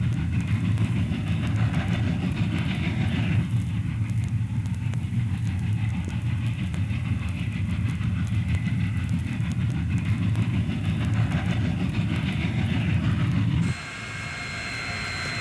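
A Union Pacific 4000 steam locomotive works as a helper pushing a train up Sherman Hill, giving a heavy, continuous low rumble with a steady mechanical roar that cuts off abruptly near the end into a quieter tone.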